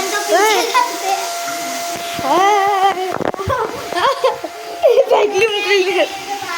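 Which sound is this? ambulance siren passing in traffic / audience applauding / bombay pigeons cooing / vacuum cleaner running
vacuum cleaner running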